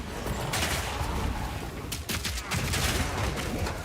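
Stun grenades go off in Path of Exile 2 amid continuous game combat, a dense crackling barrage of sharp bursts layered over steady noisy rumble, loud and sustained with no clear gaps.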